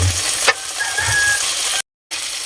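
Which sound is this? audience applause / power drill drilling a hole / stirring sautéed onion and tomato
stirring sautéed onion and tomato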